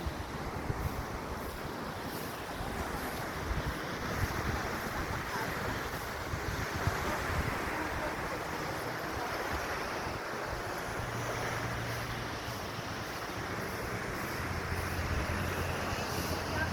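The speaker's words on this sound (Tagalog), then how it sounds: "Ang lakas ng mga alon." Strong ocean waves surge onto the shore along a seaside promenade, a steady broadband roar of surf mixed with wind buffeting the microphone, continuous and fairly loud throughout with a low hum beneath.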